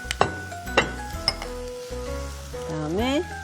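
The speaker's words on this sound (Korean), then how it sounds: "버터 둘러주시고요" Butter sizzles in a hot pan as curry sauce ingredients are started, a steady frying hiss with a few sharp clinks of utensils against the pan.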